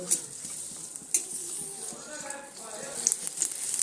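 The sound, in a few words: cashews and raisins frying in ghee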